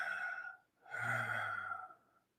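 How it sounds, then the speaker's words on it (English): Close, quiet breathing during a calm self-hypnosis breath count: an exhale, a short pause, then a longer soft sighing breath that fades into silence. "breathe as you would normally and count your breaths"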